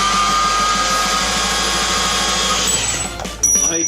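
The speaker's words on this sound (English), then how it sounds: "Plenty of ways to cut metal. You can use a sawzall, hacksaw. I'm using a cord band." Corded band saw cutting metal, a loud, steady, close whining drone with a fast rattle that winds down near the end and then gives a short clatter.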